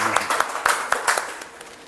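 An indoor audience gives Priyanka Chaudhary a short burst of applause, scattered claps fading out within about two seconds.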